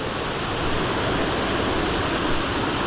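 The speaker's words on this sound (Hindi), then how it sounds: "और ऊपर झरना है, देखो कितना प्यारा।" A mountain waterfall on a high pass trail, heard as a steady, dense rush of falling water that fills the whole clip at an even, fairly loud level without pause.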